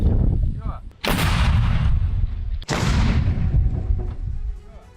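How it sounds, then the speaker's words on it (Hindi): Russian army artillery fires near Kherson: two heavy booming blasts about a second and a half apart, each followed by a long rolling rumble that fades, over a constant low roar, loud and outdoors. "और अब रूसी सेना की आर्टिलरी का एक्शन"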